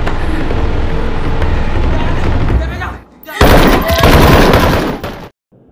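Movie action scene with bursts of gunfire, dense rapid shooting mixed with crashing effects, loud and close, cutting out abruptly near the end; a voice talks over part of it.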